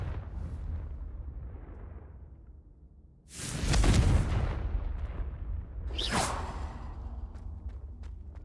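The Confringo spell in Hogwarts Legacy goes off as two fiery explosive blasts, a loud deep boom with a swooshing tail followed a couple of seconds later by a sharper second burst, over low ambient rumble.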